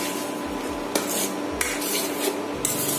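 A spoon scrapes and stirs paneer tikka masala curry around a pan, several distinct scraping strokes with light clinks against the metal, close and clear with no talking.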